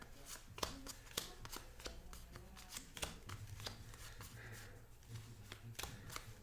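Cards from the Fiends and Familiars expansion for the Roll Player board game are handled close up, with crisp, quiet slaps and flicks repeating in an irregular rhythm over a low background hum.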